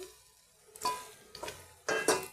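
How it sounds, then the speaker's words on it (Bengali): Short bursts of stirring and scraping of potatoes and onions frying in a pan with a faint sizzle, three or four scrapes spaced unevenly, close by and fairly quiet. "এই আলু পেঁয়াজ আমি একসাথে ভালো করে ভেজে নেব"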